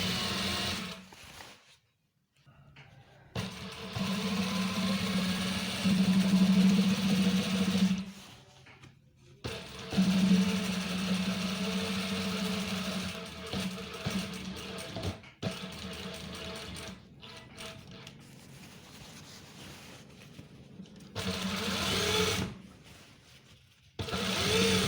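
A sewing machine hums and rattles through the lining of police uniform pants in long, fairly loud steady stitching runs, separated by short silent stops.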